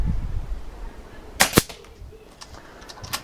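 An FX Wildcat MK2 air rifle fires a single sharp shot outdoors, followed by a faint distant crack, with quiet background ambience and no talking.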